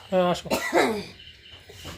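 A person with a hoarse, sore throat lets out a couple of harsh coughs right up close, after a short voiced sound, then quiet room noise follows.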